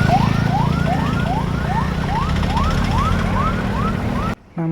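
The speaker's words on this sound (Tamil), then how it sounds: "இப்போ கூட பார்த்திங்கன்னா வந்து ஒரு ஆம்புலன்ஸ் வந்து போயிட்டுருந்து" An ambulance siren wails in repeated rising-and-falling sweeps through city traffic in Nagercoil, loud and close, with engine rumble underneath and a brief dropout near the end.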